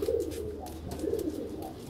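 Madrasi pigeons coo in two soft, rolling calls close by, each a low throaty burble repeated about a second apart, with no speech.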